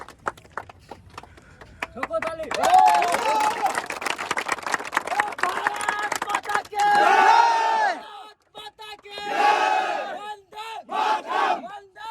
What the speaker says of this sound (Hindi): एक बार, जोरदार ताली इसके लिए।